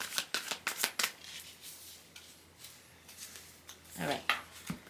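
Tarot cards being shuffled by hand during a reading, a run of quick papery riffles and flutters in bursts, close and fairly clear, with brief pauses between.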